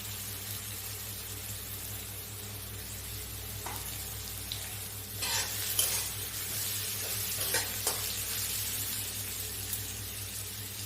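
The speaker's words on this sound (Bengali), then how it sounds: "গাজরগুলো আমার বিনসগুলো আমার অল্প অল্প ভাজা ভাজা হয়ে এসছে" Carrots and beans stir-fry for chowmein, a soft low sizzle in the pan with a few scattered scrapes and stirring clatters, faint and steady throughout.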